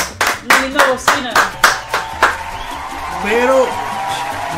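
Audience clapping in a studio, a series of loud separate handclaps in an uneven rhythm, with voices calling out over them and a short whoop-like cry near the end.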